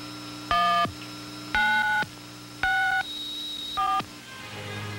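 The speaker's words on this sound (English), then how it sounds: "By dialing 1964, I launch the final phase of this great effort." Four tones dialed on a telephone to start the final countdown to the 1964 New York World's Fair, each a loud, clear beep lasting about a third of a second, evenly spaced with short pauses and no talk.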